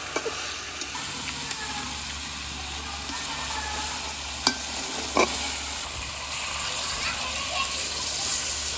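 Meat curry bubbles and sizzles in a pan while being stirred, a steady close frying hiss with occasional clinks of the spoon, as voices talk in the background.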